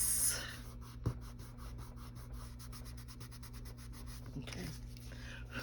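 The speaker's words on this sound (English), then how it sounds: "I love that this glue just rubs right off." Dried glue being rubbed off a sewn fabric pocket piece, with a steady run of soft, rhythmic scratchy strokes close by and a brief knock partway through.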